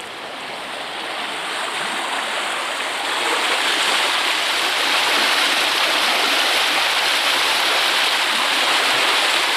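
The River Ver rushes steadily beside a mill sluice where it splits into channels, a broad close hiss of flowing water that swells slightly louder partway through and carries on without any voices.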